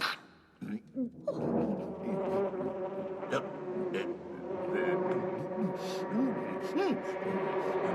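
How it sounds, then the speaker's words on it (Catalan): Steady insect-like buzzing of a bumblebee in an animated Beatrix Potter story, droning continuously and close for the whole stretch, rising and falling in pitch with light background voices and sound effects. "senyor Jackson, és l'abella bronzinaire."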